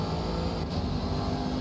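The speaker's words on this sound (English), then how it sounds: "Oh, listen to that engine scream." A GT3 race car engine in a racing sim screams at high revs, a steady dense roar that holds loud and unbroken the whole time.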